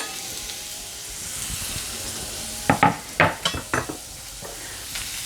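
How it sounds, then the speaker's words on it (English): Chopped onion hits a hot pan for scrambled eggs with tomato, bringing a steady sizzle of frying with a cluster of sharp scraping and stirring clatters against the pan midway, close and without talking. "So I'm going to add my onion."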